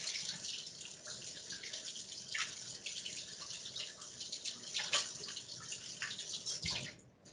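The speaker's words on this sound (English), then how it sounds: "If you haven't washed your hands, take a break real quick and go wash them." Water runs steadily from a tap during handwashing, a continuous broadband splashing hiss that stays fairly even for several seconds before easing off near the end.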